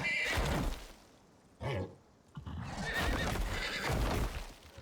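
A horse whinnies loudly twice in the survival video game Icarus, set in a desert, with hoofbeats and rustling between the calls and no talking over them.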